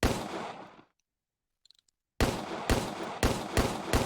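Several sharp, loud reports from a Steyr GB replica gas-blowback pistol come close together after a brief silence with faint mechanical clicks, each shot a crisp bang in quick succession.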